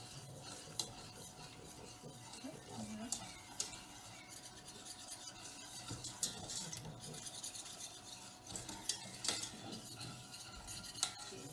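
Cornstarch, baking soda and water mixed by hand in a bowl give a continuous soft scraping and rubbing stir, close and quiet, with small clicks of the utensil against the container and no voices.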